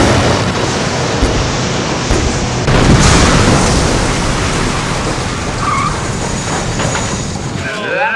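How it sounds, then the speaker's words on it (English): A film stunt explosion of a bomb vehicle on a movie set, heard as a loud sustained roar and rumble of blast and debris lasting several seconds with a brief swell partway through. "Used 14 cameras on that explosion."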